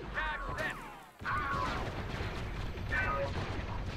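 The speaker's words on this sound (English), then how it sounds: "our grenade exploded way before. Way, like, really prematurely there" A grenade blast goes off in the Star Wars mod of the Call to Arms: Gates of Hell war game, with loud broadband bursts set among battlefield noise while someone talks over it.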